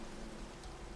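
Steady rain falls in Minecraft with Complementary Unbound shaders, a dense even hiss of raindrops filling the short moment without any talking.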